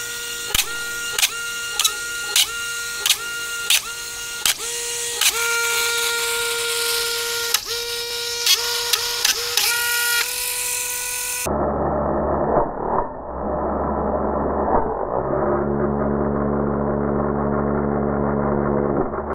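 FPV drone motors, 3800 kV on 6S, spinning at 30% throttle with a steady high electric whine broken by regular sharp pulses, then shifting abruptly to a lower, muffled droning tone.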